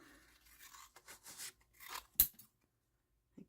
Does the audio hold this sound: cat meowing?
no